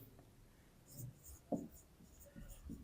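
Writing by hand during a math lesson on sets, with soft scratchy strokes and brief taps against a low background hiss.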